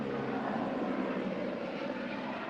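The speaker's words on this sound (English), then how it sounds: "Hang on, airplane," An airplane passes overhead near an outdoor hotel pool, a steady, loud, broad engine roar filling the whole stretch with no talk over it.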